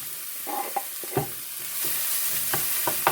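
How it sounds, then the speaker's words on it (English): Onions frying in hot rapeseed oil, stirred with a wooden spoon: a soft, constant sizzle broken by several distinct scraping knocks of the spoon against the pan. "So you can see they start frying straight away in a hot oil."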